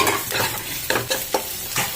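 Onions and ginger paste fry in a pan with a steady close sizzle, broken by a handful of sharp spatula stirring scrapes at irregular intervals, with no voices.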